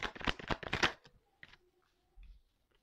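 Tarot cards being gathered and shuffled up close: a quick run of crisp riffling flutters, then a few scattered soft taps and slides as the deck settles, with a brief murmur of voice.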